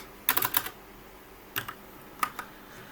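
A few quick bursts of keystrokes on a computer keyboard while writing C code, with clusters of clicks separated by short pauses, close and clear.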